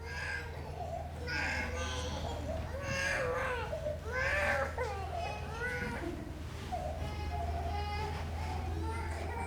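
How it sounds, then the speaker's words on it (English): A baby and young child cry and babble in a room, uneven wailing bursts rising and falling at moderate distance, overlapping with other voices and a low steady hum. "hearing a baby crying, a young child crying, which was real"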